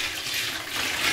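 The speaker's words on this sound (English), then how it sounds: "I'm going to pour this bucket of urine in the bathtub" Liquid from a bucket of urine poured into a green plastic tub sitting in a bathtub, a steady, close, splashing rush that carries on without a break and swells slightly toward the end, with no talking.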